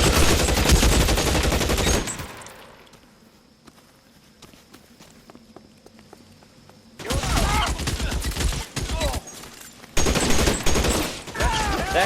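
Rapid bursts of gunfire from a shootout in L.A. Noire open the scene, fade into a quieter lull, then return as loud, dense volleys with sharp individual cracks.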